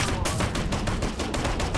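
Sustained rapid gunfire from automatic weapons in the military video game Operation Flashpoint: Red River, a dense, continuous rattle of shots firing at APCs with no pauses.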